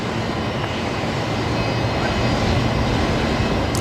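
Qantas flight 196, an airliner arriving at Brisbane Airport from Wellington, New Zealand, gives off a steady, broad engine roar and rushing noise that holds at an even loudness throughout, with no talking.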